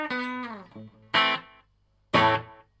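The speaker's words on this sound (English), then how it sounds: "So I've got this set at a really slow delay" An electric guitar runs through a delay pedal set to a slow delay, giving a big spacious sound with three separate plucked chords. Each chord rings out and repeats softly as it fades, with no one talking.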